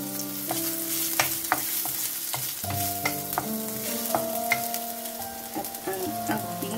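Ginger stir-fried in hot olive oil for a Filipino sautéed vegetable dish, sizzling steadily and close up, with scraping stirs and utensil clinks over the continuous frying hiss.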